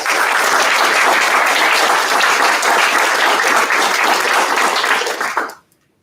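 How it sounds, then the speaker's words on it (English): A crowd at the Out for Australia 30 Under 30 awards gives loud, close, dense applause that holds steady for about five seconds and then cuts off abruptly into near silence. "Please give a round of applause to Charlotte Glantz."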